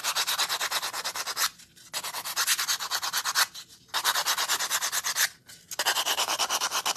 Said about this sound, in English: I'm gonna sand around these edges